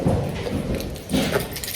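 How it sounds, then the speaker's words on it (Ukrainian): An apartment door is shut and locked from close by: a couple of dull thumps, rattling and jangling of keys, and a clicking lock, with no talking. "Зараз закриваю двері."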